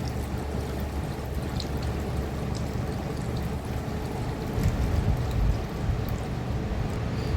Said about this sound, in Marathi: हे अशा पद्धतीने सगळं गाळून घ्यायचं आहे आपल्याला